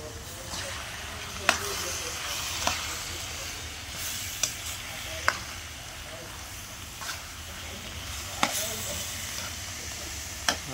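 Spinach frying lightly in a pan gives off a faint, steady hiss, with a handful of soft utensil taps spaced every second or two.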